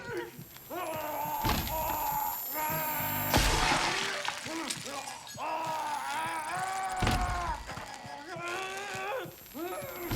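Glass shards cracking and shattering underfoot in the horror game Outlast Trials, several sharp crunches and a loud smash amid thumps, with voices speaking over much of it.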